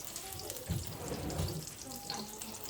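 Butter sizzles and crackles steadily in a pan on a high setting, a continuous soft frying hiss with a few small pops and stirring scrapes, close and fairly quiet, with no talking.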